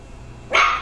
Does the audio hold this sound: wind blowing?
no